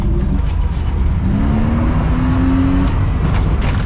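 A BMW E36 325i drives across a bumpy field. A loud, steady engine drone and rumble comes from close by, with a rising tone as it pulls along.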